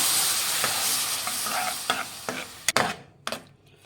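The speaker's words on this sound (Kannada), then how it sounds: "ಏನು ಹಾಲು ತೊಗೊಂಡಿದ್ವೋ ಅದನ್ನು ಹಾಲು ಹಾಕೊಳ್ಳಿ ನೋಡ್ಕೊಂಡು ಹಾಕೊಳ್ಳಿ ಫ್ರೆಂಡ್ಸ್ ಮಿಕ್ಸ್ ಮಾಡಿ" Milk is poured into fried semolina (rava) for rava laddu and stirred in a pan, starting with a strong sizzle that settles down, broken by a few sharp scrapes and knocks of the spoon near the end.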